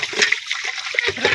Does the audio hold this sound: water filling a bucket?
yes